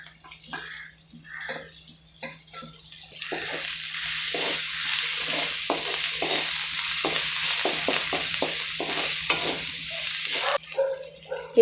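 Turmeric, salt and coriander are sautéed in a pan. A steady close sizzle runs under repeated scraping stir strokes, with a brief clatter at the end.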